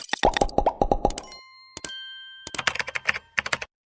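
A notification bell sound effect gives a bright, ringing ding. Quick plopping, keyboard-like clicks come before it and again after it, all clear and close with no voices.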